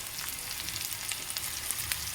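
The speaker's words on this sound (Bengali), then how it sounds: "মোটামুটি ওই পেঁয়াজটা ভাজা হয়ে গেছে" Onion fries in a pan with a close, even crackling sizzle and faint popping, with no other sound.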